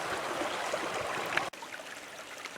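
A small forest tributary stream where brook trout live in Allegany State Park, flowing with a steady close broadband rush and trickle, briefly dipping then continuing alone.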